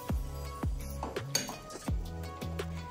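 A utensil scrapes and clinks against a pan while melting chocolate and butter are stirred for an eggless no-bake fudge, with several distinct knocks and scrapes at an even pace and faint background music.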